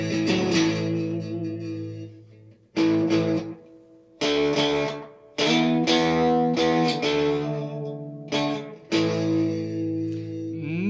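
An electric guitar, the Monoprice Indio Classic, plays chords and phrases through light echo and overdrive, ringing out loud and distorted in several sustained bursts with short gaps between them.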